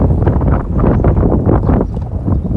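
Wind blowing outdoors on a cold day buffets the microphone in steady, loud, rumbling gusts for a few seconds with no voices heard.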